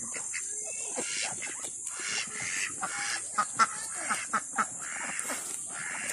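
A flock of farm ducks quacks continuously nearby in the countryside, overlapping calls rising and falling with a few louder honks, over a steady high-pitched background hiss.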